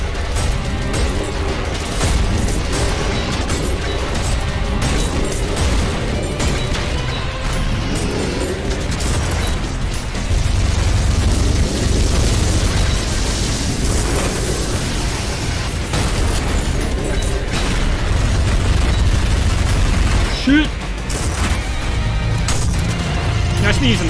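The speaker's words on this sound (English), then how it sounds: "Yeah, holy crap, the rocket launcher chunks this motherfucker" Rocket launcher blasts in Ultrakill, repeated booming explosions with mechanical clatter rolling under near-constant excited talk over a busy, loud fight.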